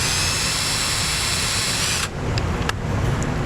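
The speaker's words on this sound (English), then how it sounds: "we're just going to drill a little hole right in here" A power drill bores a small hole into a rubber grommet while trailer wiring is installed on a 2012 Chevy Cruze. The whine is loud, close and continuous, shifting in tone partway through as the bit works the rubber.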